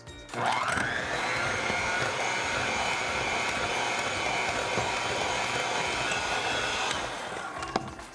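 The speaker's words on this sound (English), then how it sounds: "So now we're gonna mix this up with a beater to get it nice and creamy." An electric hand beater whirs steadily at high speed through pizzelle batter with anise in a kitchen, starting up abruptly, holding a loud, even motor whine for about six seconds, then winding down.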